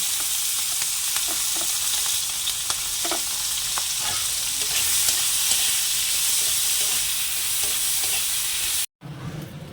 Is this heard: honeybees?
no